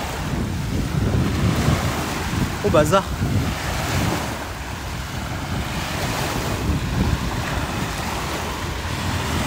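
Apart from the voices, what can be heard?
sea waves and gust of wind at the beach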